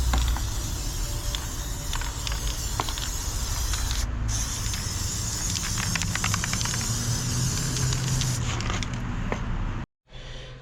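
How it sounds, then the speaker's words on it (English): Hissing spray from an aerosol can of red oxide paint on pipe fittings in steady bursts, close by, mixed with small clicks and knocks of handling, ending with a brief silence. "we'll give it a spray of just normal red oxide"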